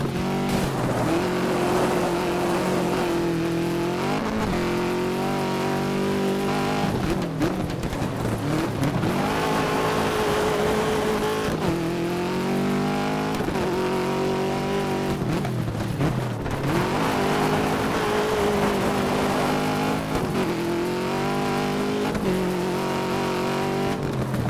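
A racing car engine in the Dirt 2 video game screams continuously through a high-speed race, loud and close, with repeated rising revs, gear-shift dips and occasional tire noise.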